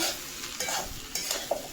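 Rice stir-frying in ghee with large pieces of egg, a spatula scraping and tossing through a soft steady sizzle, close and fairly quiet, with a few sharper clinks.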